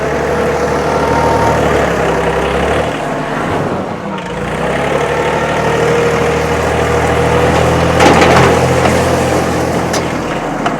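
A 2022 John Deere 3033R compact tractor with loader, belly mower and hydrostatic 4x4 drive hums in high range reverse, a steady low diesel drone that briefly dips then swells slightly louder later, with no voices.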